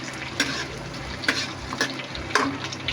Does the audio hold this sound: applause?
no